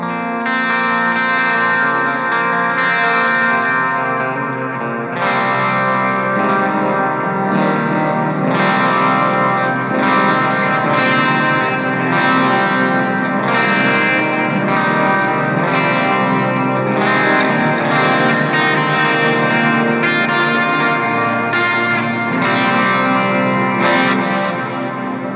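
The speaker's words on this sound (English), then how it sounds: "Here's an ambient sort of clean sound on the bridge pickup." An electric guitar plays an ambient clean tone through the bridge pickup into an Axe FX3 rig, chords ringing out loud with chorus and echo trails, struck in a slow repeating pattern and heard alone.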